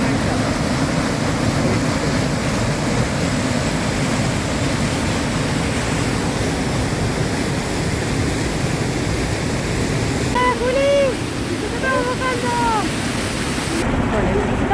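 A powerful, full-flowing waterfall pours down toward a turquoise lake near El Chaltén, giving a loud continuous broadband roar with short bursts of voices near the end.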